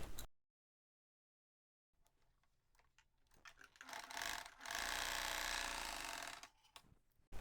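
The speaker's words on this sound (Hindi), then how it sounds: "अब यहाँ से सिलाई लगाएंगे" A sewing machine stitches a garment seam on a co-ord plazzo and top set, starting after a silent gap with a few short clicks, then running in a steady, loud mechanical whir for about two seconds before stopping.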